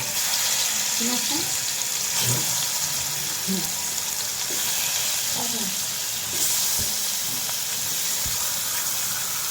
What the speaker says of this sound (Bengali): আমি এখানে কিছু মাছ ভাজি করতে নিছি